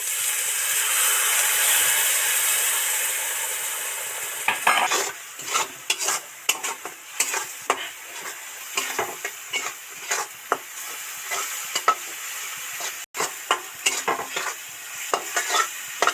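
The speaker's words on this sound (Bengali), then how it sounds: "ভালো করে মশলাটা মিশিয়ে নেব।" Spice paste of cumin, coriander and chili powder loosened with water fries in a pan beside fried onions for a vegetarian pumpkin dish: a steady loud sizzle at first, then repeated scraping stirs cut through a softer hiss, with no voices.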